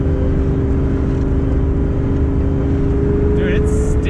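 A Corvette ZR1 engine drones steadily with a deep, loud rumble while driving and turning, with brief higher sounds near the end.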